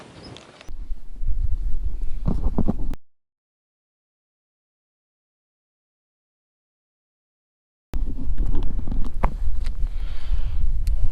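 Strong wind buffets the microphone at an RC jet flying field, a loud low rumbling roar that drops out completely for about five seconds midway, then returns just as heavy with faint background sounds.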